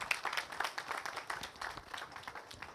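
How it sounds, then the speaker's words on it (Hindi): Scattered applause from an audience at an indoor knowledge-sharing session, faint and distant, a brief patter of many hands with no voices over it. "रत्नेश जी के लिए जोर से ताली बजाई जाएगा।"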